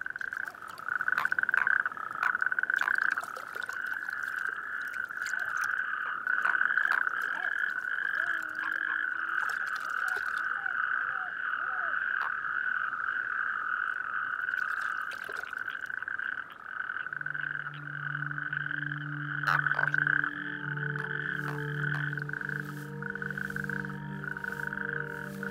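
Frogs croak in a dense, continuous chorus with a steady high creaking call running throughout, while a lower, louder croaking joins near the end, all without any voices.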